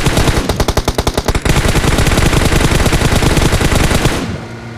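Video game gunfire opens with rapid evenly spaced shots, then runs into a dense, loud continuous automatic burst that fades out near the end, with no voices over it.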